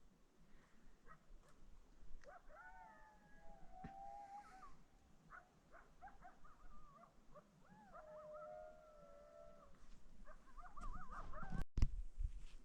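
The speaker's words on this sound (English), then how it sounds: "Coyotes are howling." Coyotes howl at night near a homestead campsite, a chorus of wavering, yipping howls carrying from a moderate distance over a quiet background, with a sharp knock near the end.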